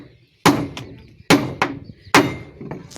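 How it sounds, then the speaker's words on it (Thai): Hammer blows strike floorboards being laid, three sharp close impacts about a second apart, each followed by a lighter secondary knock, with no voices. "ตอนนี้มันเพิ่งกำลังตอกแป้นนะปูพื้นอยู่"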